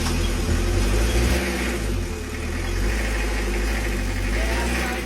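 The engine of a 1960s Morris ambulance idles close by in a steady low rumble with slight surges after being primed and coaxed into life. A voice speaks faintly over it.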